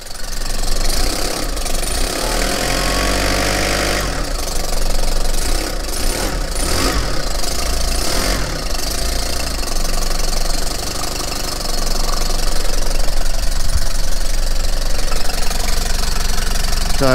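Diesel engine of a van that had sat unused for two years, idling as it warms up, loud and close with a steady knocking rumble that swells slightly toward the end.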